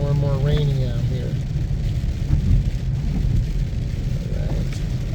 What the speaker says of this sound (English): And as we talk, it's becoming more and more rainy out here.